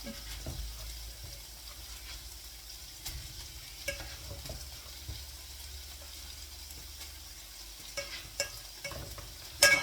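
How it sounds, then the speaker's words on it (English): Garlic and rice fry and get stirred in a hot pan, a soft steady sizzle broken by repeated scraping and clinking stirs, fairly close and quiet with no talk. "the garlic's getting nice and toasty and not burning"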